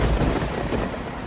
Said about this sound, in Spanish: En todo el mundo, tormentas letales matan sin piedad.